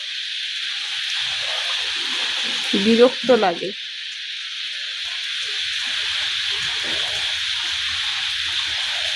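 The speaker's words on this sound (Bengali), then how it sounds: "কিরকম বৃষ্টি পড়ে যাচ্ছে দেখো" Continuous rain falls as a steady, even hiss through the whole stretch, with a brief burst of speech over it partway through.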